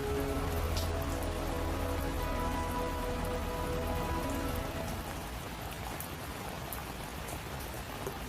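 Heavy rain pours steadily onto surfaces, a dense continuous hiss of drops with no voices, easing only slightly toward the end.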